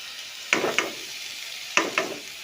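Spinach goes into a frying pan with shrimp, a soft continuous sizzle broken by four sharp clattering stirs arriving in two quick pairs.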